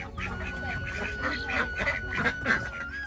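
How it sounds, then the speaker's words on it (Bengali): Several domestic ducks quack and honk close by in short overlapping bursts, with chickens about in a village yard in Bangladesh and faint background rustle. "উঠানে নির্বিঘ্নে বিচরণ করছে গৃহপালিত হাঁস মুরগি"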